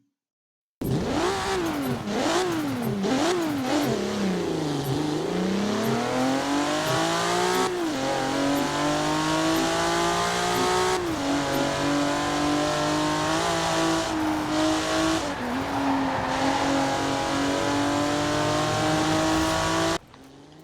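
Toyota Mk 3 Supra engine in Forza Horizon 4, revving up and down through rising and falling pitch sweeps, then a sustained loud drone under acceleration, close and alone.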